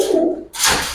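A Giribaz pigeon gives a brief, close cooing call, a soft low throaty note that cuts off into a burst of rustling noise, all within about a second.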